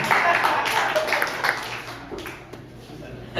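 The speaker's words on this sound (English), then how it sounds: "That was a very short applause." A very short round of applause from a live audience at a stand-up comedy show, a brief burst of clapping that quickly thins out and fades.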